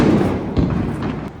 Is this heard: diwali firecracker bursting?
yes